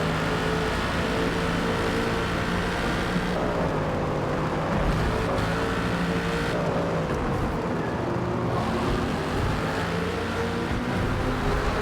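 Race car engines roar around Suzuka in Forza Motorsport, where an AMG, a Corvette and a Viper are battling. A steady, loud, close engine drone holds throughout, its pitch rising and falling as the cars shift and accelerate.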